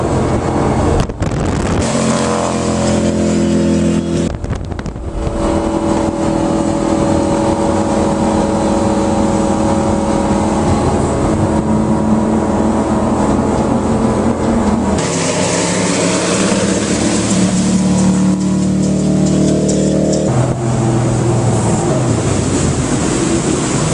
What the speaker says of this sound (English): Again, V226, awesome handling boat.